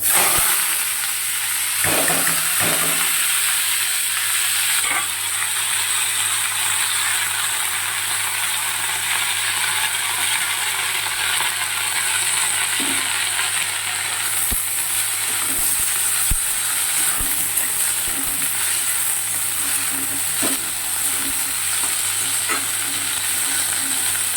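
Lightly boiled vegetables (paneer dish) sizzling in oil in a kadai wok, a steady close hiss of frying throughout with occasional clicks and scrapes of stirring, no talk.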